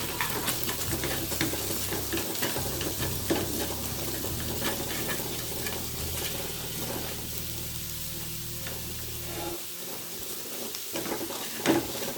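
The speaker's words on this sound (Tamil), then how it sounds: "ஃப்ளேம் ஹையில் வச்சு இந்த மாதிரி ஒரு இந்த சாப்ஸ்டிக்கில் நல்லா தனித்தனியாக பிரித்து விடணும்" Potatoes for a ghee roast frying on a high flame in a pan, a steady close sizzle with soft scraping and tapping as chopsticks separate the pieces, easing off near the end.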